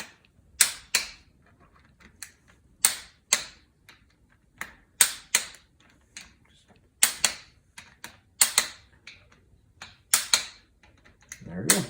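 A torque wrench tightens bolts to 18 foot-pounds on the front of a 4.8L LS engine, making a string of sharp, close ratcheting clicks in irregular bursts with short pauses between them.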